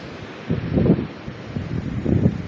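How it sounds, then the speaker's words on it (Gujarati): Strong gusts of wind buffet the microphone in low, rumbling surges, rising and falling twice over a brief stretch. "આ પવન છે ને અત્યારે એક નંબર આવે ને એ ઘટે જ નહીં એવો પવન છે"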